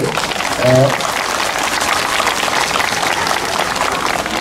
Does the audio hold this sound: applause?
yes